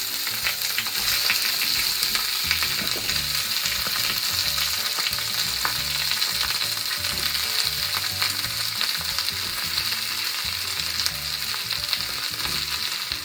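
Mixed vegetables fry loudly in a pan with roasted black seeds, a continuous close crackling sizzle with scattered stirring scrapes, no voices.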